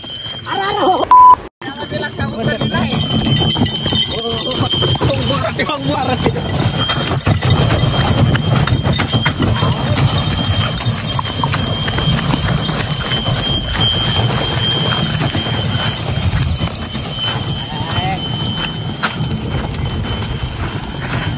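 Hooves of bullocks yoked for the first time clop steadily and loudly over a long stretch, close by, with voices talking and calling throughout and a brief break near the start.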